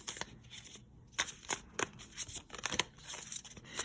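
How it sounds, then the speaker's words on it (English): A deck of tarot cards being shuffled close by, with quick papery riffles and flicks coming in irregular bursts. "as I'm shuffling, the cards are being reversed in this deck"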